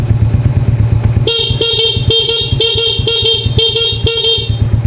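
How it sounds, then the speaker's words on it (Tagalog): The stock horn of a 2018 Suzuki Smash 115 motorcycle honks in a rapid series of short, loud beeps over a steadily idling engine, close by. "Stock po ang busina."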